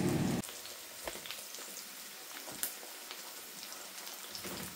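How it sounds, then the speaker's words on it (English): Soft crackling and sizzling of eggs frying in a pan alongside mushrooms, with scattered pops and spits over a steady hiss. "I've just cracked a couple of eggs in the frying pan there to cook alongside the mushrooms."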